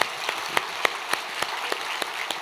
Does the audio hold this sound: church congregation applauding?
yes